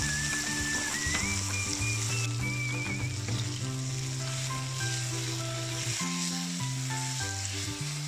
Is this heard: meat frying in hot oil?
yes